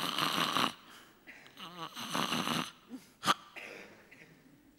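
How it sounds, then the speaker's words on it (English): Heavy snoring from a person with sleep apnea: rough, rattling inhalations and a sharp snort, close and loud, in irregular bursts separated by quiet pauses. "Snoring."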